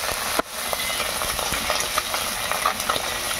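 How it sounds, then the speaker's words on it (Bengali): Small puti and mourala fish frying in hot oil in a village kitchen, a dense continuous sizzle with scattered pops and an occasional scrape of a spatula, loud and close. "পুঁটি মাছ আর মৌরলা মাছ, যেটাকে আমরা বলি মৌটি মাছ, সেই মাছ ভাজা হচ্ছে"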